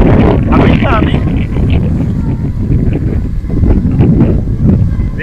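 A gale blowing in off the sea batters the microphone of an FPV drone by windswept coconut palms, loud rough buffeting that churns without pause, a short bird call rising early on.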